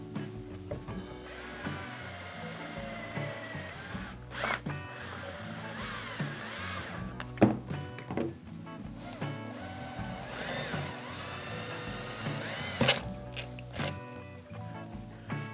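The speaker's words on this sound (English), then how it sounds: "You're going to want to drill all of those out with a provided drill bit." A drill bores out rivets on a Sherco two-stroke spark arrestor end cap, a close whining motor with pitch sweeps as the bit bites, broken by sharp clicks and scrapes of metal.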